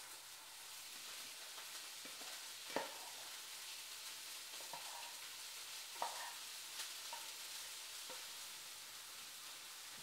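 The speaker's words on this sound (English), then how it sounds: "when the fish is done sizzling over there" Steady, faint sizzling of fish frying in a pan, a continuous crackling hiss with occasional soft clinks and scrapes, no voices.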